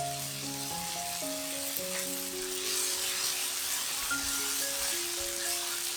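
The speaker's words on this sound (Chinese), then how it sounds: "炒一炒。" Vegetarian potato filling is stir-fried with soy sauce in a pan, making a steady, moderately loud sizzle with light stirring throughout, under soft background music.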